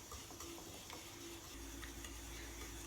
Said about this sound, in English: I didn't mix it well, so I have to continue mixing